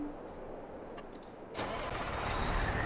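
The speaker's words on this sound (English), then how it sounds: "And the engine starts." A truck engine cranks and catches in Farming Simulator 22, a brief starter whir followed by the engine settling into a steady, low idle hum that continues to the end, heard alone.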